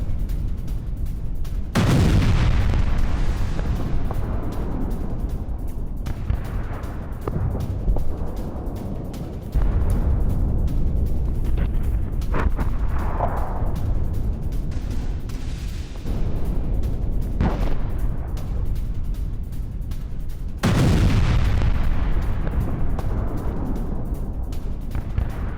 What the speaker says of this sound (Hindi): हमले में हिजबुल्लाह के वेपन डिपो में विस्फोट